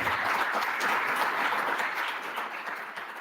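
An audience claps for Professor Andrés Rodríguez before his talk on quantum metrology, a steady wash of applause at moderate distance that fades slightly toward the end.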